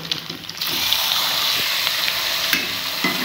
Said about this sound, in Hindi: और इसकी हम 2 मिनट भुनाई करेंगे।